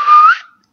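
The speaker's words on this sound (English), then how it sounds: "That's how she whistles." A single short whistle rising in pitch, clear and fairly loud, lasting under half a second before trailing off into silence.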